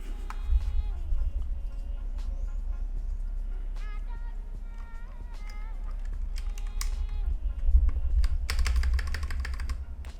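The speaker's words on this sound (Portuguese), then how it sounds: "Agora eu vou botar todas as keycaps aqui" Pudding keycaps being pressed onto a Redragon Fizz K617 60% keyboard, heard as a steady run of light plastic clicks and snaps, close up, over a low constant hum with no talking.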